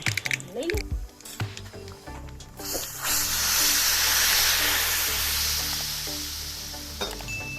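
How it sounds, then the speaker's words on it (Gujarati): A hot tempering of cumin, asafoetida, cinnamon, cloves and dried red chillies poured over dal dhokli, bursting into a loud, sustained sizzle and hiss that slowly fades, after some clattering of utensils. "આ વઘાર છે એને આપણે દાળ ઢોકળીની ઉપર રેડી દેવાનો છે"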